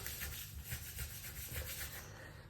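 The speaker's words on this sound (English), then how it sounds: "I'm not afraid of just using my scraper and it just really pulls it under" A dough scraper drags a sourdough loaf under across a work surface, a short, soft rubbing scrape heard close and faint, with no voices.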